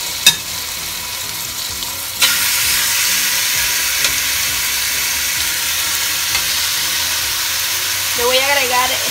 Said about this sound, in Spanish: Voy a agregar el pollo con mucho cuidado.